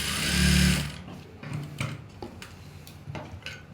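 A sewing machine stitches a kameez panel, one short loud whirring run of stitching followed by quiet clicks and handling of fabric.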